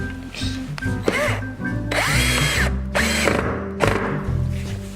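A power drill bores into a 3/4-inch by 5.5-inch wooden board while a game table is being built, whining loudly and continuously with rising and falling pitch and bogging down as it bites, close by and with no voices.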